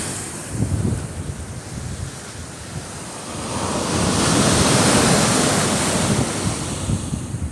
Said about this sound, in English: in the afternoon you don't even get waves like this